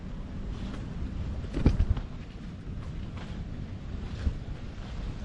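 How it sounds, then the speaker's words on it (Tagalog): Wind buffets steadily with a rushing roar of large sea waves beneath at an abandoned seaside resort, and a few sharper gusts or splashes break through now and then. "Tsaka yung dagat, yung alon ng dagat, malaki."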